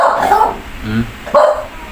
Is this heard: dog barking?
yes